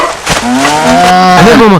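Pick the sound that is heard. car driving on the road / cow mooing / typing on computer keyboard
cow mooing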